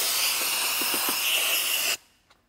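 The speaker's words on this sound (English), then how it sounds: "So this is a compressed air gun, and it shoots air." A compressed air gun blows dirt and debris from under a car seat, a loud, steady rushing hiss that cuts off abruptly after about two seconds, leaving near silence.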